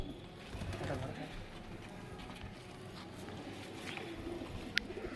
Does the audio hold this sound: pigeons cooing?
yes